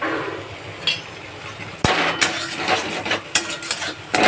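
A vegetarian curry being sautéed with a little sugar, with a low sizzle under sharp metal clanks and scrapes of a spoon against the pan, several distinct knocks scattered through, close and fairly loud.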